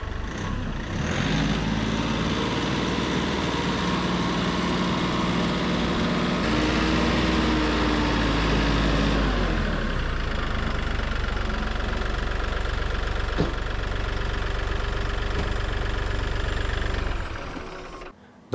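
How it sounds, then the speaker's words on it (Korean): A new Daedong DK compact tractor idles close by, its engine holding a steady, even rumble with a faint knocking texture for about seventeen seconds before cutting off. "드디어 새 트랙터가 집으로 왔습니다."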